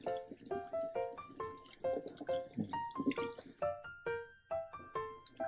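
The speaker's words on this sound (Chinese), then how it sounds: "你就拿到水槽里面去，直接装水，一个一个冲洗起来" Clams are rinsed one by one under running water in a sink, with bright splashing drips and trickles in a steady, uneven patter, close and fairly quiet.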